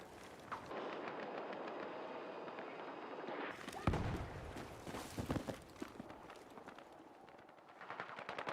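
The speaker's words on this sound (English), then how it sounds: "It's a bot shooting a rocket." In a video game, a bot fires a rocket among rapid gunfire bursts and a heavy blast near the middle, with clattering shots continuing after it, all fairly quiet.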